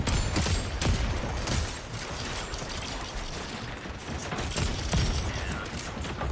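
Rapid pistol fire crackles in the Splitgate 2 battle royale, a dense run of sharp shots and mechanical clatter layered over busy game noise throughout.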